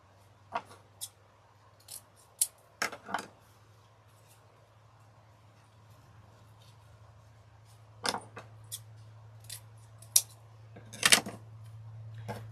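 Scissors trimming leftover ribbon or mesh for a vintage cat door hanger, heard as a scattering of sharp, quiet snips in small clusters over a low steady hum, with no talking.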